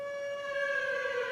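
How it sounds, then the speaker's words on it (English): A tornado siren wails steadily at one sustained pitch, loud and unbroken, with no voices. "Tornado siren. That's the tornado."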